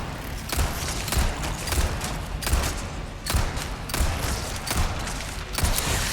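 Rapid gunfire from the Resident Evil 4 Remake fills the scene, a dense run of repeated shots and thuds fired in quick bursts, steady and loud throughout with no talking.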